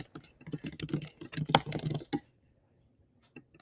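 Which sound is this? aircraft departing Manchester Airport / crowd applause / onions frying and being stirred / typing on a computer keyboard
typing on a computer keyboard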